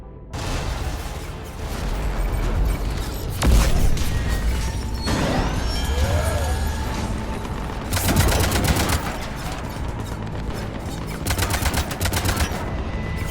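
Gunfire in the Mass Effect 3 video game: rapid automatic bursts and heavy booms crackle continuously over a loud, dense battle backdrop, with clusters of fast shots repeating throughout.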